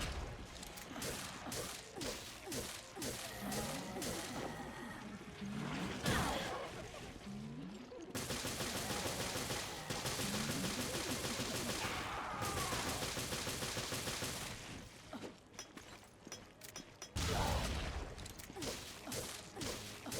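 Gunfire from weapons in Resident Evil: Revelations, firing off spare ammunition as a series of sharp, loud shots in bursts with short pauses between them.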